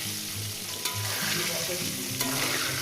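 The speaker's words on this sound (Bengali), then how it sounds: "আলুগুলো আমি দিয়ে সুন্দর করে লাল লাল করে ভেজে নেব" Potatoes fry in a pan until browned, giving a steady, close sizzle that runs the whole time beneath a sustained low melodic tone, with a couple of brief sharper clicks.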